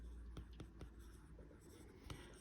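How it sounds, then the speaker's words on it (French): A stylus writes by hand on a tablet screen in a note-taking app, giving soft, faint scratchy taps and strokes, with a few sharper tip clicks spaced irregularly over low background noise. "Maintenant, je vais écrire."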